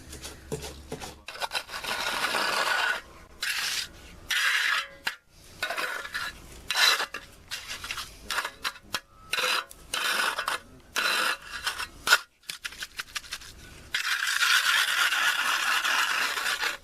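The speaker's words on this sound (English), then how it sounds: "guys are mixing up the concrete right now" Workers mix concrete by hand for a sidewalk patch near a yard drain, giving repeated gritty scraping and rubbing strokes in an irregular rhythm, fairly close.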